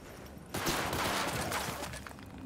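Gunfire from the video game Cyberpunk 2077 breaks out after a quiet start, a dense rapid volley of shots with rattling echoes that keeps going at moderate loudness, with no talking.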